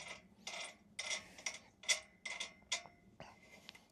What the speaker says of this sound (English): you lock it in with a little pin here.